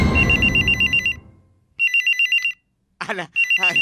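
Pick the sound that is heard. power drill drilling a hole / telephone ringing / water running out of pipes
telephone ringing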